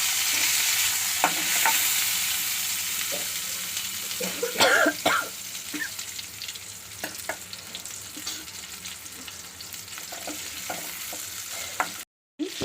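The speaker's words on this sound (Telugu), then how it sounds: "నూనెలో కొంచెం వేయించుకోవాలి అలాగే వాటితో పాటు కొద్దిగా చింతపండు చింతపండు దాన్ని కూడా వేయించుకోవాలి" Tamarind fries in oil in a pan for pulihora, a steady close sizzle broken by spoon scrapes and stirring knocks, with a brief cough partway through.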